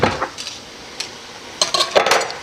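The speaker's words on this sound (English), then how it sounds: "then we're gonna start spooning it into the aubergines." A spoon scoops stuffing mixture into aubergines sitting on an oven tray, giving scattered light metallic clinks and scrapes, sparse at first, then a denser cluster of taps near the end.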